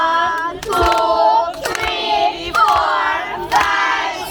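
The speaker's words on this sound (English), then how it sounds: "we're gonna clap 6 times and we're gonna shout big happy birthday for Monae" Party guests at a child's sixth birthday in Jamaica clap together in a steady counted rhythm, each clap mixed with children's and adults' shouted counting over a lively room.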